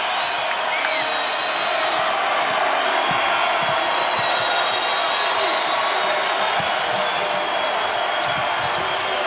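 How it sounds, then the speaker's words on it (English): A sellout crowd at a college basketball game between Murray State and Auburn roars steadily throughout, a dense wall of cheering under a commentator's voice with scattered ball bounces. "And Bruce Pearl now encouraging this sellout crowd."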